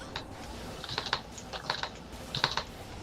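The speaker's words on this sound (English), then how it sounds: "hear Joby jamming on his keys here" Rapid computer keyboard typing clatters in uneven bursts of close key clicks, heard against faint background noise.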